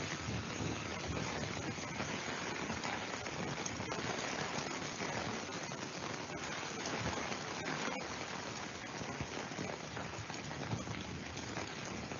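Heavy Mumbai monsoon rain pours down steadily for the whole stretch, a dense continuous hiss of drops on surfaces with some wind, even and unbroken, with no voices.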